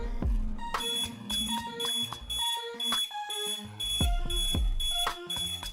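A rhythmic electronic alarm chime repeats in quick bursts of tones, a bright melodic pattern ringing steadily at moderate volume.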